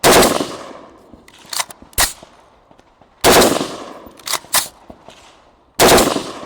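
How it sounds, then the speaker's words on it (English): Loud, close bursts from a rifle fitted with an Atrius Super Selektor forced-reset trigger, firing two-to-three-round bursts three times with sharp echoing cracks and metallic clanks between. "I'm getting a 2-3 round burst"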